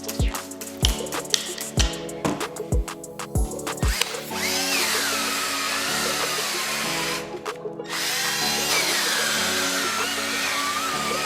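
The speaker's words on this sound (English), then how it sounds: "We're gonna drill brush it" A power drill spins a brush scrubbing a car's carpet with industrial cleaner, starting with several short bursts, then settling into a long, steady, loud whirring scrub with a brief pause.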